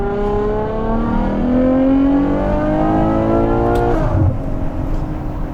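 A Novitec Ferrari Purosangue fitted with a race exhaust revs loudly, its engine tone climbing steadily in pitch for several seconds before cutting back sharply, then idling lower.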